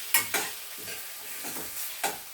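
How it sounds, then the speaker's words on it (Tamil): Tomatoes sautéing in a pan for a dhaba-style paneer dish, with soft sizzling beneath a handful of sharp metallic stirring clinks spaced out across a few seconds, all at close range and without talk. "இப்போ அந்த தக்காளி 2 நிமிஷம் நல்லா அப்படியே நம்ம வதக்கணும்."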